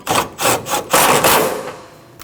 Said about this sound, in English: Now we can tighten our radiator bolt that bolts our radiator to our radiator support